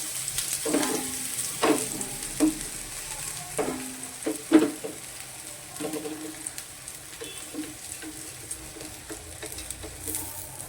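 Uttapam batter spread on a pan, with oil added and sizzling softly while a utensil taps and scrapes at the pan several times; the frying stays fairly quiet throughout.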